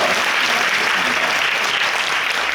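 A church congregation at an outdoor worship service claps in a loud, dense and unbroken burst of applause that fills the whole moment without pause.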